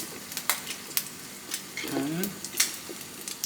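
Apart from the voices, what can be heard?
food frying in oil in a pot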